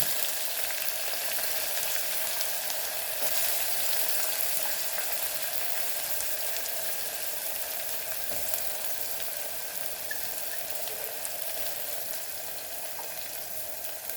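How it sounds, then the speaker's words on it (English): Onion fries in a pan for dal fry, a steady, even sizzle close by with light crackling throughout and no voices. "Now we will add our onion."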